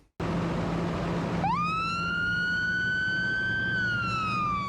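An emergency vehicle siren blares up close on a road, starting with a steady rumble and then rising into a loud sustained wail that holds and dips slightly near the end, with no voices.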